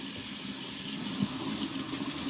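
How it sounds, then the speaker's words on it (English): Tap water runs steadily into a sink, a continuous splashing rush close to the microphone with a brief louder gush midway, and no one speaking. "I'm trying to get this water to get hot."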